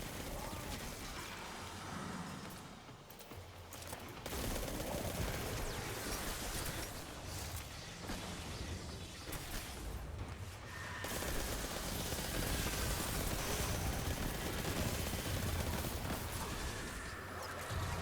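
Sustained, dense gunfire from Destiny 2 shooter gameplay, a continuous rattling barrage with brief dips, loud and busy throughout.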